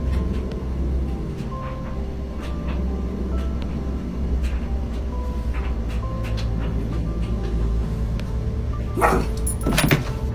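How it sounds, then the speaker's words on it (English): A dog barks indoors at a home, faint and intermittent over a steady low hum, with a louder burst near the end. "They heard noises in the room whilst their dog was barking,"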